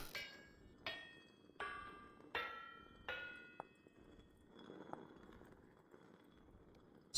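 Hammer striking a chisel on metal in the video game Vintage Story, a series of five sharp ringing metallic clangs at a steady pace, each with a decaying tone, followed by fainter knocks and a final hit.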